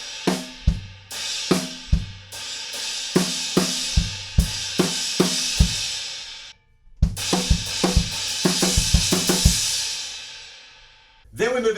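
A drum fill from a song is played on a kit, with kick drum hits mixed into quick right-left strokes and crash cymbal washes. It breaks briefly in the middle, then resumes with another run, loud and close.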